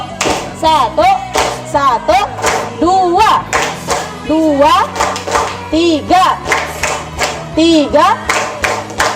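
Children in a classroom clap in a counting clapping game led by a teacher, sharp claps landing in a steady beat while young voices chant and count aloud over them.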